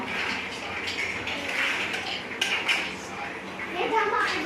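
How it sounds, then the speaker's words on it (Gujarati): A pan of cluster beans and potato curry is tempered in a home kitchen, with steady utensil clatter and scraping and a few sharper metallic clinks. Voices chatter in the background throughout. "નીતા ભાભી શાક વઘારે છે"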